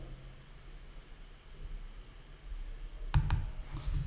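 Two quick computer mouse clicks land close together near the end while Chrome developer tools are in use, sharp and fairly near over a low steady room hum.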